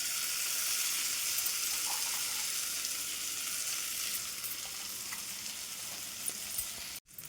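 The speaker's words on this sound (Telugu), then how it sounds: "బరకగా దంచుకున్నాం కదా క్యారెట్ మామిడికాయ, ఇది ఇలా మనం పోపులో వేసుకుందాం" Crushed carrot and raw mango drop into a hot tempering in a pan for pickle, giving a steady, moderately loud sizzle and frying hiss that holds throughout with no voices, then cuts off sharply near the end.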